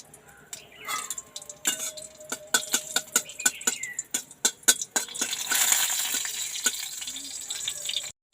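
Dried red chillies drop into a little hot oil over a village clay stove for tempering, giving soft clicks and knocks that build into a steady, close sizzle, with someone talking over it.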